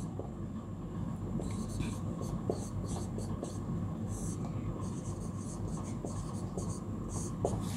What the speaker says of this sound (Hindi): हम लोग लिखेंगे